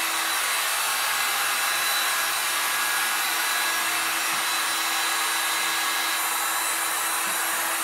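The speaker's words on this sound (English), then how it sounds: "let me get my heat gun" A heat gun blows in a steady, loud, hissing rush of air while heating paint on metal, continuous throughout with no talk.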